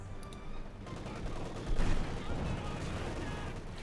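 Gunfire and mortar bursts in the World War II strategy game Company of Heroes 2, a dense rumble of shots and a heavier thump near the middle, fairly faint under battle ambience.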